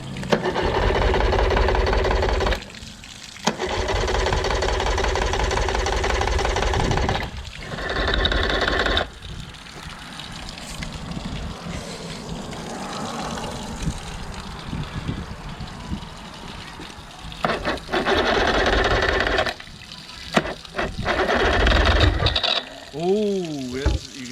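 A Yamaha 30 hp outboard engine, freshly repaired exhaust, cranks and turns over in loud sustained bursts separated by brief pauses, its mechanical drone dominating the scene.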